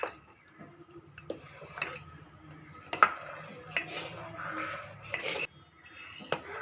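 Fruit custard thickening in a pan as a metal spoon stirs it. Intermittent scrapes and clinks against the pan sound close but fairly quiet over a soft background.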